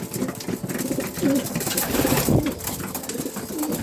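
Postal pigeons coo inside a cleaned loft, soft repeated throaty calls rising and falling close by over a steady rustling background, with no talking.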